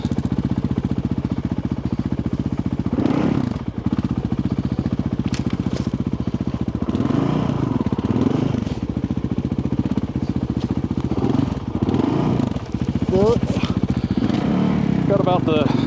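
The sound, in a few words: motorcycle riding on a remote trail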